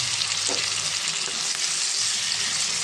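Tomatoes fry in a pan with ginger garlic paste, a loud continuous close sizzle with a brief stirring scrape, and no voices.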